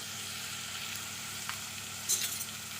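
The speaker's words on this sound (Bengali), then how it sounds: "তেলটা গরম হয়ে গেছে এখন ওই তেলের মধ্যে দিচ্ছি লাউ" Bottle gourd pieces frying in hot oil: a steady close hiss of sizzling with a faint stir or clink near the end, quiet and continuous, no voices.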